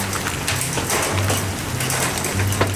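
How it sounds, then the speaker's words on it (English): Large hail pelting down during an Oklahoma supercell storm, a dense, steady roar of hard impacts on surfaces around a vehicle, loud and continuous with a low rumbling hum underneath. "we found the big hail"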